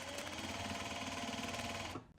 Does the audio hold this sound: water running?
no